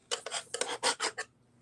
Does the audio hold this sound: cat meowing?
no